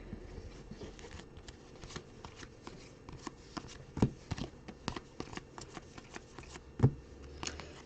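Sports trading cards being handled and shuffled during a live card break, with close, crisp flicks and slides in irregular bursts and a few sharper snaps, no talk.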